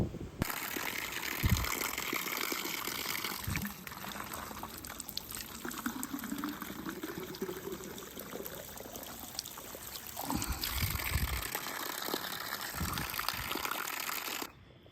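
Water gushing and pouring steadily for several seconds, nearby and fairly loud, with a brief pause partway through before the flow picks up again.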